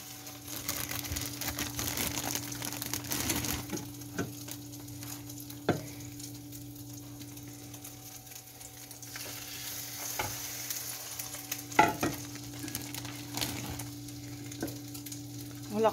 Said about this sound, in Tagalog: Soak the bread. And then fry.